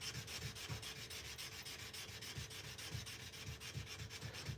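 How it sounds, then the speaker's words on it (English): Steady back-and-forth rubbing as a knife blade is sanded, with quick, even strokes repeating in a close, fairly quiet rhythm and no talking. "I am just about done sanding this blade"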